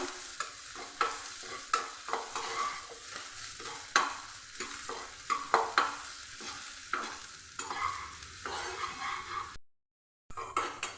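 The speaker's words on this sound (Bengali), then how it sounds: "এবার ঘিয়ের মধ্যে দিয়ে কিশমিশ ভেজে নেব কিশমিশ ভাজতে বেশি সময় লাগে না খুব তাড়াতাড়ি ভাজা হয়ে যায়" Raisins frying in ghee in a pan for festive oats pulao, a steady close sizzle broken by repeated scraping stirs of a spoon, with a brief dropout near the end.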